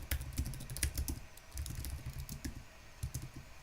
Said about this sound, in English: I'm doing all the typing